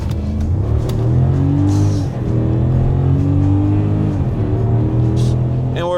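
A V8-swapped Mercedes R-Class minivan with two-wheel drive accelerates hard on a damp road, its engine roaring loudly with rising harmonic sweeps through gear changes and a brief dip near the middle, a steady close rumble throughout.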